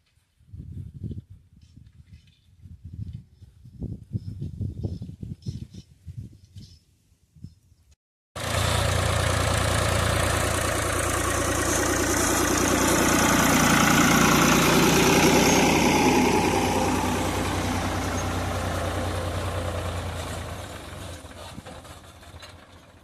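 A tractor engine idles steadily and close by, a loud continuous rumble. Quieter sounds come before it starts.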